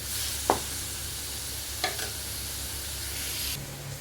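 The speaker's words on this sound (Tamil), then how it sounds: "அந்த தக்காளி போட்டுக்கலாம். தக்காளி நல்லா மசிஞ்சு வரட்டும்." Chopped tomato fries in a pan for a goat brain dish, sizzling steadily, with two short stirring scrapes of a spoon against the pan.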